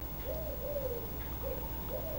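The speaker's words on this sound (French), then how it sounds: "On entend les oiseaux dehors." Birds outside an open window give soft, repeated dove-like coos, about four in a row, faint and distant against a quiet indoor background.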